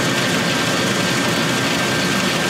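A honey extractor's motor runs in Farming Simulator 19, a steady low mechanical hum with a faint high whine that holds unchanged from start to finish, with no other sounds over it.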